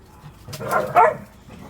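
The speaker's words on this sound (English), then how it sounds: "The dogs are fired up." Excited farm dogs give a short, close bark and yip at chicken feeding time, one quick outburst over faint background noise.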